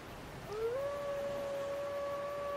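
The Great Grey Wolf Sif from Dark Souls gives one long howl that swoops upward, then holds a steady, clear pitch over a quiet background.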